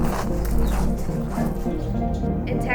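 A pit bull dog barks a few times amid noisy background chatter and movement in a shelter setting.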